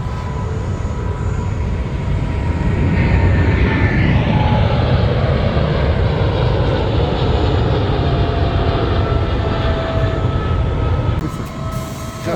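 Airplane engines roaring during takeoff, heard from inside the cabin as a loud, steady, broadband rumble with a rising tone that holds throughout before easing slightly at the end.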